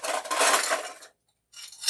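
An ice cube clinks and rattles into a glass in a short bright burst, then a brief silence, then another clink, close and clear.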